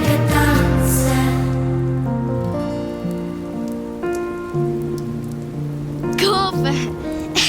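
Heavy rain pours steadily throughout a Swiss German children's radio play, a dense continuous wash heard together with sustained melodic music, no voices.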